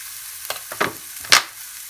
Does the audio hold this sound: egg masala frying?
yes